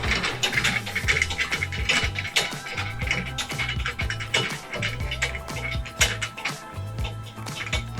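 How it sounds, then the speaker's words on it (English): A giant long screw is unscrewed from a dunk tank, giving a steady run of close, rhythmic ratcheting clicks and grinding metal turns, with occasional scrapes. "come back around here and unscrew this giant long screw"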